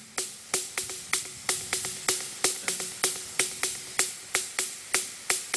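Programmed Euclidean rhythm spreading three hits across eight pulses in a dancehall-like pattern, repeating crisp electronic clicks at a steady, looping pace, fairly quiet and without other sounds.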